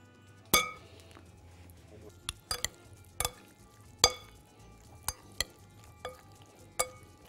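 Duck and chicken meat is stirred in a pan, with scattered sharp clinks of a utensil against metal over a faint sizzle and brief pauses between strokes.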